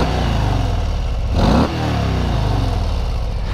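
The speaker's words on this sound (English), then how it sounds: "let's get started with a little exhaust clip on the old Harley" Exhaust of an old Harley motorcycle rumbles loudly up close as a deep, throbbing idle, with one quick throttle blip swelling and dropping back to idle midway.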